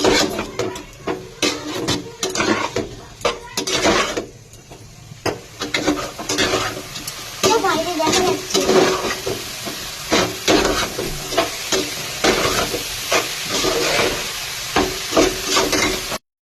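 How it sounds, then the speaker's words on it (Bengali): Meat sizzles and fries in a hot pan while a spatula scrapes and stirs it repeatedly, close and fairly loud, with no talking, as momo filling is browned. "ভাজা ভাজা করে নেব।"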